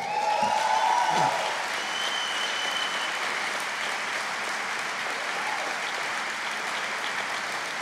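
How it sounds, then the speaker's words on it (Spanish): Loud audience applause in a church gathering, a broad continuous roar of clapping with a brief voice near the start, then holding steady and evenly full throughout. "Dele buen aplauso al rey."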